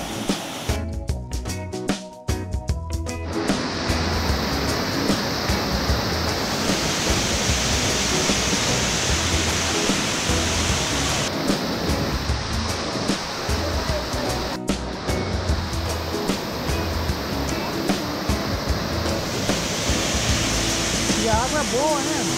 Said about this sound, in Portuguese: Cachoeira das Orquídeas. Chapada dos Guimarães.